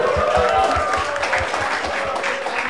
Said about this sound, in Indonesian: tepuk tangan buat Raden dari kita semua.